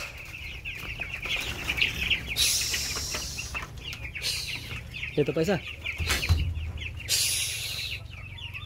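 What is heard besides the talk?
chickens clucking in a vegetable garden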